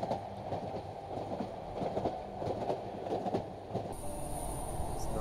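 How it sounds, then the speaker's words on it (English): A subway train in the video game Cry of Fear rumbles along at a steady pace, wheels clacking over the rails with low, constant rolling noise and occasional faint squeals. "Here's us sitting on the subway."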